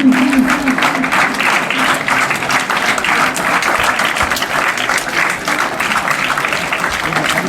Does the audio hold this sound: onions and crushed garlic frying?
no